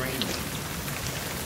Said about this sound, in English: Well, I guess we could go outside. It's raining.